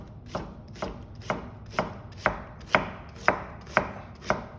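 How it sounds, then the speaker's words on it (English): A chef's knife julienning an onion on a cutting board, with about ten crisp, evenly spaced chops ringing out close and clear, no talking. "To julienne it, you start it this way and you cut it"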